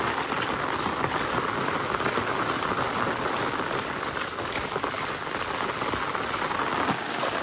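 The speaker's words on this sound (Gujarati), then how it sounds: "કેટલું તો વરસાદ છે" Heavy, continuous rain pours down on a muddy road, a dense steady hiss of drops striking surfaces at even loudness throughout, with no voices.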